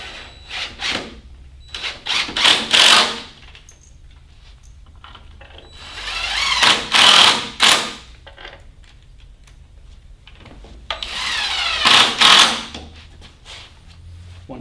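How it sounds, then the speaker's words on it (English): Silver screws are driven into pre-drilled holes to attach parts of a sewing table, three separate bursts of whirring power-driver noise spaced a few seconds apart with quiet gaps between. "you're going to use the simple silver screws to go ahead and attach it to each side"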